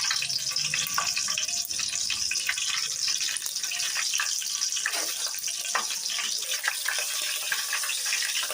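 Green chillies frying in a modest amount of oil for chicken curry, a fairly faint, even hiss of sizzling with a few soft crackles, no voices.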